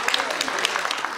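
Audience at a Deauville 2016 press conference claps in a brief burst of dense, scattered hand claps, fairly soft and close.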